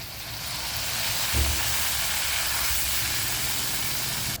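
Sprite hits a hot pan holding a big lobster and erupts into a loud, steady hissing sizzle, with a soft thump as the liquid lands early on, and no voices.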